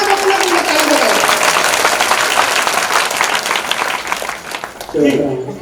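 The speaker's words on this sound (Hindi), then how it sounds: "सब अपना अपना ताली बजाओ" A live comedy show audience in Chhattisgarh bursts into loud, sustained applause for several seconds. Near the end it thins out, and a brief shouted voice cuts in over the crowd.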